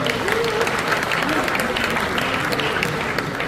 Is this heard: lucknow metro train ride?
no